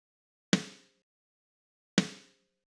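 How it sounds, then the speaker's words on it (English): Two dry snare drum hits, about a second and a half apart, each a sharp crack with a short decay and silence between. "we can take a normal snare hit"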